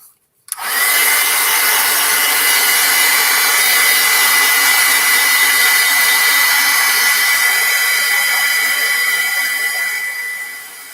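Loud, close hair dryer switched on after a brief click, roaring in a steady airy rush while drying acrylic paint on a spooky woods canvas, tapering slightly at the end, with no voices.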